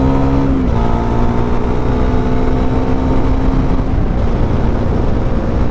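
A Pulsar NS400Z motorcycle engine drones steadily and loud throughout, its pitch shifting slightly as it pulls under acceleration at speed, with constant wind rush and no talking.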